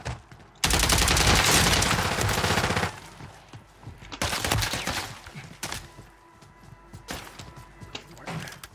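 Rapid automatic gunfire in a video game: a loud, dense burst of shots for about two seconds, then several shorter bursts and scattered single shots, with no voices.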